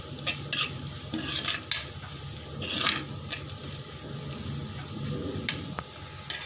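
Onion, ginger, garlic and green chili sautéing in a pan for a Kerala-style fish curry, a spatula stirring in steady repeated scrapes over a continuous close sizzle.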